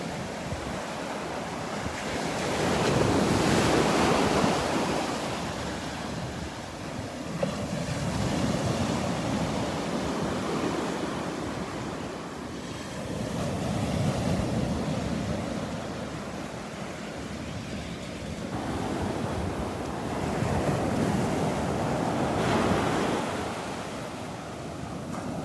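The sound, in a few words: waves at Delnor-Wiggins beach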